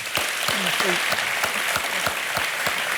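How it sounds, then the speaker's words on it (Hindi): Steady studio audience applause on a TV quiz show, a dense wash of clapping with faint voices underneath. "तालियों के साथ इनका अभिनंदन।"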